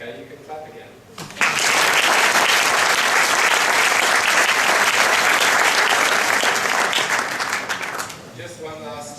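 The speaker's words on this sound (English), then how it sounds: "you can clap again" Audience clapping at a dressage forum with a horse demonstration: after a brief spoken line, loud, dense applause erupts and holds steady for several seconds before tapering off as talking resumes.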